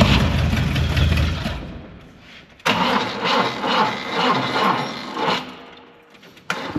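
A classic BMW 2002 with a nearly flat battery, helped by a booster, cranks in two long, loud, close stretches without catching, then gives a brief final burst of starter noise.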